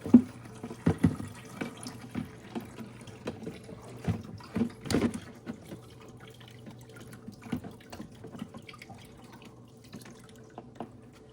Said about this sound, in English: the lowest setting It's just kind of a trickle.